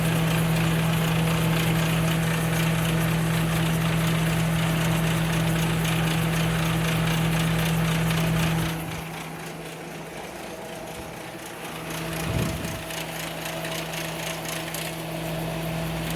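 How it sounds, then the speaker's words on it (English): A Montgomery Ward 22-pint dehumidifier hums steadily with a buzzing rattle from its loose case, then the noise drops sharply to a quieter whir partway through. "That's just the case rattling."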